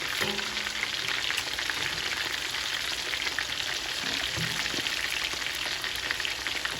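Korean sweet and spicy fried chicken pieces frying in hot oil, a dense continuous crackling sizzle that stays loud and even throughout, close up with no talking.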